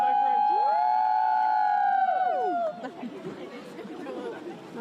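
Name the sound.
children shouting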